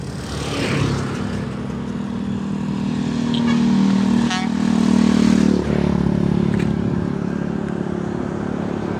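A motorcycle on a road near a river bridge in Ilocos runs steadily nearby, its engine droning and swelling slightly mid-way before settling, with no talk heard.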